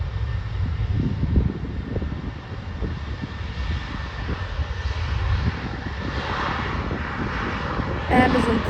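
An airplane at Leipzig airport sends a sustained, rumbling engine roar across the airfield, steady and fairly loud throughout with broadband wind-like noise.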